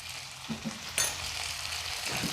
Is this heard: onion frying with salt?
yes